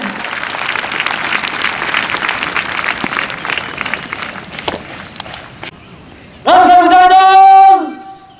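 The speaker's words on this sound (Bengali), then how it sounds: "করতালির মাধ্যমে তাদেরকে অভিনন্দন জানাই।" Crowd applause at a Bangladesh Police passing out parade in Sarda, Rajshahi, sustained clapping that fades out, followed by a loud shouted parade command.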